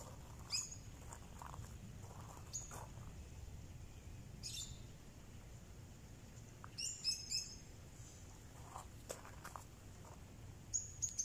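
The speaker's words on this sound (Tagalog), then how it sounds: "Ang lovebirds." Lovebirds at a resort in Scottsdale, Arizona give short, scattered chirps and squeaky tweets, faint and somewhat distant, in quick bursts separated by quiet gaps.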